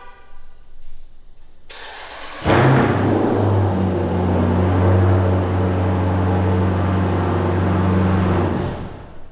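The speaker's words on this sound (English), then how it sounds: "It has got orange powder coated brake calipers, and it has an exhaust. So if you want to hear it, I don't blame you." A 2014 Jeep Grand Cherokee SRT with an aftermarket exhaust fires up after a brief click, catching with a loud bark and then settling into a deep, steady rumbling idle before cutting off.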